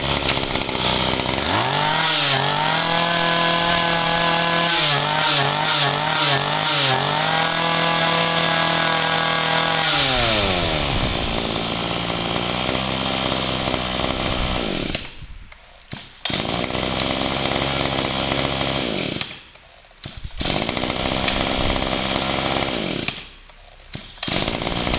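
A secondhand Japanese two-stroke chainsaw engine runs loud and close, revving up and down in pulses before settling into a steady idle broken by brief cutouts.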